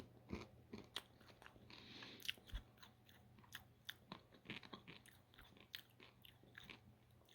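Crisp, close crunches and bites of someone chewing decades-old M&M's candy, irregular sharp cracks over quiet mouth sounds and a faint steady hum.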